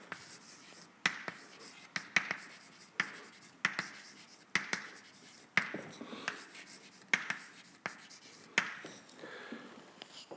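Chalk or marker writing on a board during a physics lecture on single-cell movement, heard as repeated scratchy strokes with sharp taps at regular intervals, fairly close and alone with no talk over it.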